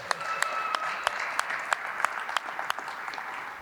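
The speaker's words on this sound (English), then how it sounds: "let's give the Cleveland Cavaliers a great round of applause on a great season" Applause from an audience at a rec center's new gym floor ribbon cutting, honoring the Cleveland Cavaliers: steady moderate clapping with a few sharp louder claps standing out, faint tonal sounds briefly above it.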